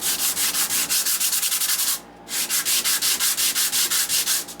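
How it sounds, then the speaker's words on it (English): Wooden knife handle scales are sanded by hand on 100 grit sandpaper in fast, regular back-and-forth scratchy strokes, close and loud, with one brief pause midway. "this is just a piece of 100 grit sandpaper right here"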